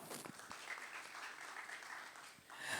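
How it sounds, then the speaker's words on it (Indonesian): Brief, faint audience applause at a university talks event in Jakarta, a soft steady patter of clapping throughout. "Tepuk tangan untuk kita semua."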